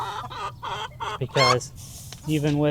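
A Lavender Americana hen clucks and gives short vocal calls from an old-fashioned nesting box, close by, with someone talking over and between the calls.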